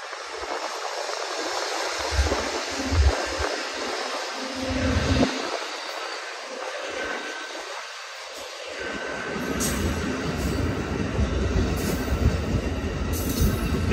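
An Amtrak Coast Starlight passenger train led by a P42 locomotive rumbles past Oakland Coliseum station, quieter at first and building to a broad, steady roar of wheels and rail noise, with a faint squeal near the end.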